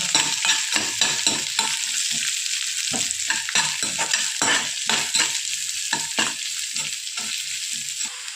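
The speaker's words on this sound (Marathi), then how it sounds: "नंतर बारीक चिरलेला कांदा आता कांदा छान आपल्याला गुलाबी रंग येईपर्यंत होऊ द्यायचा" Finely chopped onion fries with ginger in hot oil, a steady close sizzle broken by repeated scraping strokes of a spoon stirring the pan, with no talk.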